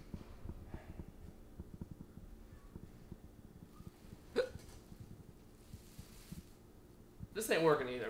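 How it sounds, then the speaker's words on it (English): Several short hiccups recur over a low background hum, with a louder burst near the end. "You like your hiccups now?"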